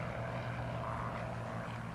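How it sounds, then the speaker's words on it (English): Warbird aircraft taking off on the north strip at EAA AirVenture, heard as a steady distant propeller engine drone with a low rumble, faint and continuous. "I see a couple of warbirds taking off on the north strip"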